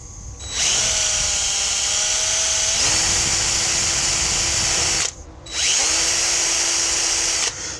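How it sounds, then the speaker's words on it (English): A power drill with a drill bit runs at a high steady whine, boring in two long loud bursts separated by a short pause, the pitch dropping as the bit bites into the workpiece on an STX38 Black Deck Motorsports Edition riding mower. "Could have probably picked a sharper drill bit."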